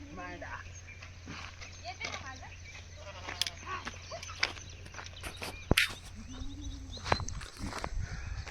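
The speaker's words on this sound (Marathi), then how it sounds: "मस्त मेंढ्या आल्यात मस्त मजा गावाकडे हीच मजा असते" A flock of sheep in a village, with scattered bleats, shuffling hooves and footsteps at moderate distance under frequent nearby talk.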